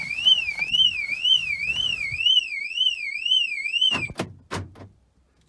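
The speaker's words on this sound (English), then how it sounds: "The alarm is going off." A Volkswagen T5 van's interior monitoring alarm wails in a fast, regular warble for about four seconds, then stops, followed by a few sharp door clunks.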